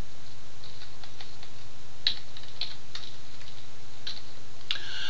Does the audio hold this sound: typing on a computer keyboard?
yes